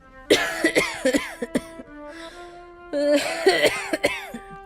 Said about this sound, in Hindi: ये तो दादी के खांसने की आवाज है।